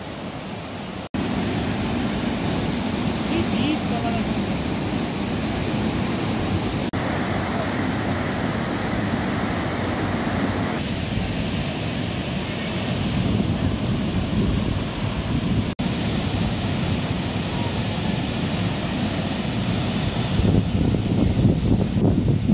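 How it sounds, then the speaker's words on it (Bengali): Jung Waterfall near Dirang pours and sprays in a steady, loud, broadband rush of water that continues unbroken throughout. "জলগুলো যখন পড়ছে আশ্রে আশ্রে, জলের পাশ দিয়ে দেখো পুরো ধোয়ার মতন ছিটিয়ে চারিদিকে পড়ে যাচ্ছে"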